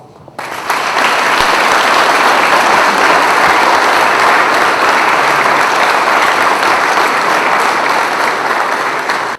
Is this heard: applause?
yes